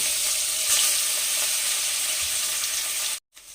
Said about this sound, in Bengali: ওই গরম তেলে আমি মাছগুলোকে এপিঠ এপিট করে ভেজে নেব